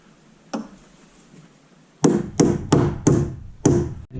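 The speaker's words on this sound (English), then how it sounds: "A little hammering there." Hammer blows drive wooden wall framing inside a skoolie bus conversion: one strike, a pause, then five sharp, evenly spaced knocks in quick succession, close and loud with no talking.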